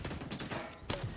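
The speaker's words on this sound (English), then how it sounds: "Brilliant, another grenade launcher guy." Grenade launcher fire in the video game The Division 2: a dense burst of muffled, booming shots and blasts over about a second, with a sharper report near the end, loud amid game noise.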